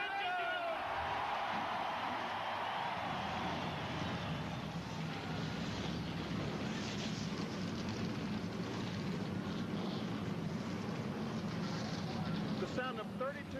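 Thirty-two NASCAR Winston Cup stock car engines fire up at the 1991 Bud 500 night race, a loud continuous roar under a crowd, with a commentator talking over it.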